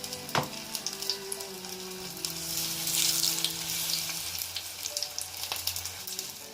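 Cauliflower pieces deep fry in hot oil, giving a continuous moderate bubbling sizzle that swells briefly in the middle, with a couple of sharp clinks of a utensil near the start and end.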